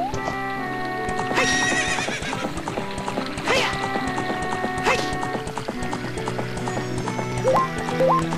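A horse in Zelda: Ocarina of Time neighing several times over rhythmic clip-clopping hooves, set against steady tonal game music, the whinnies rising sharply above the loud, continuous background.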